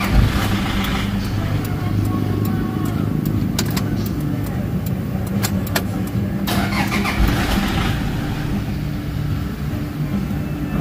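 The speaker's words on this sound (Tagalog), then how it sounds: "Start natin makina." A Toyota Fortuner engine with a low-power fault, held around 1,500 to 1,800 RPM and prone to dying, runs loud and steady nearby with a dense low rumble and occasional sharp clicks throughout.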